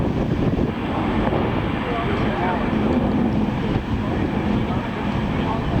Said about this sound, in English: There goes the Air China 747.